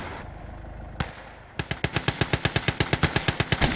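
Gunfire in the Call to Arms Gates of Hell Ostfront war game: a couple of isolated sharp shots, then a rapid, evenly spaced automatic burst of a dozen-plus loud cracks that grows denser toward the end.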